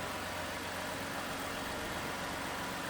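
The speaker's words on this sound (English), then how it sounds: "Dual overhead cam V6." A 3.5-liter dual overhead cam V6 in a 2015 Toyota Sienna Limited Premium AWD minivan idles steadily, a smooth, even hum with a faint low rumble throughout.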